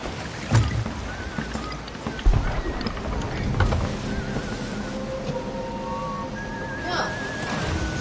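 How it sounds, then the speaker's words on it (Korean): Waves crash and slosh around a ship in the pirate video game Sea of Thieves, layered with creaking wood and whistling wind tones, continuous with a few heavier thumps. "어, 파도 친다."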